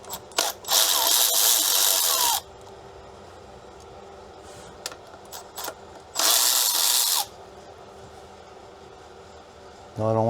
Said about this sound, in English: we're going to be taking these bolts, 10mm bolts here out